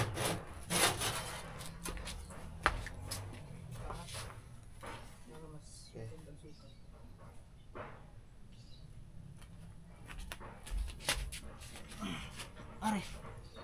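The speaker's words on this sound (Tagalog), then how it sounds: "maglagari muna tayo" Rough, repeated rasping strokes of a hand saw cutting wood, fairly close, with people talking over and between the strokes.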